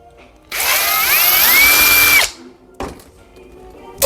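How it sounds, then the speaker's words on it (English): A power drill with a 3/16 bit bores into a brake pipe on a Vauxhall all-wheel-drive car, whining loudly and close for about two seconds, followed by a few quieter mechanical clicks and knocks. "And then the other side, we'll just drill that out the same."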